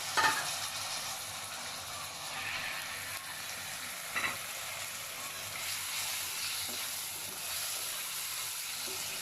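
Potatoes and goat liver fry in a spiced masala in a pan, giving a steady, close hiss and sizzle throughout, with a few brief scraping stirs and no voices.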